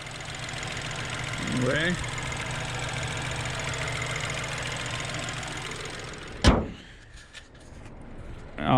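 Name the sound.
2021 Chevrolet TrailBlazer engine idling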